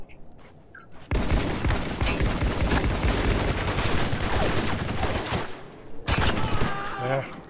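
Dense, continuous gunfire from Spec Ops The Line multiplayer erupts loudly for several seconds, stops briefly, then resumes in a short final burst, with players talking faintly beneath.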